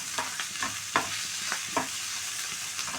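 Vegetables for pav bhaji fry in a pan with a steady close sizzle, broken by several sharp stirring scrapes and taps of a spatula at irregular intervals. No voices are heard.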